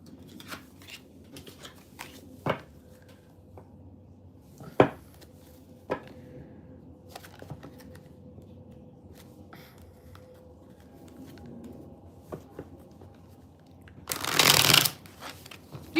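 Tarot cards shuffled by hand during a live reading, a quiet steady riffle with scattered sharp taps and a louder, denser burst of shuffling near the end.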